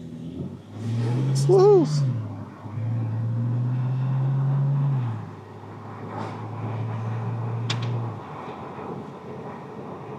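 A 2012 Porsche 911 Turbo S with the top down pulls away, its engine rising through several accelerating pulls, close and fairly loud, with a person talking and whooping over it.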